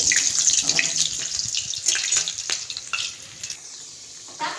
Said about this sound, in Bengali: আলুগুলোকে একটু লাল লাল করে ভেজে নেব।